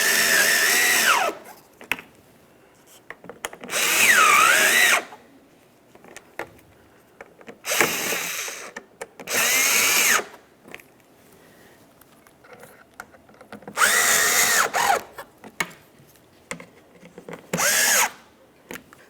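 Power tool snugging screws into a 2012-2015 Honda Civic front bumper cover, several loud whirring bursts of a second or two each separated by quiet pauses, with no speech.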